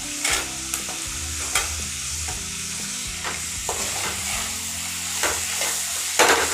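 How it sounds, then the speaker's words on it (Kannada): Garlic and coconut frying in a pan for a Mangalore-style fish curry, a loud, close sizzle broken by repeated scraping stirs of a spatula, with no one talking. "ಬೆಳ್ಳುಳ್ಳಿ ಮತ್ತು ಕೊಬ್ಬರಿನ ಹಾಕಿ ಫ್ರೈ ಮಾಡೋದು"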